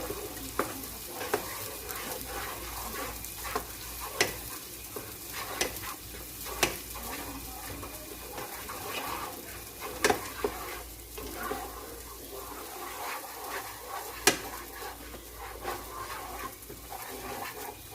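Medium chorizo sizzles in a pan for a Puerto Rican-style sloppy joe, with a soft continuous frying hiss broken by sharp utensil clicks and scrapes at irregular intervals, no talking.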